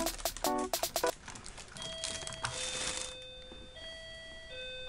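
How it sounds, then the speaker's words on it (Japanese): A few sharp clicks and rustles, then an electronic doorbell chime plays a short sequence of clear tones at a moderate distance. "ちょっとピンポン来ちゃいました。"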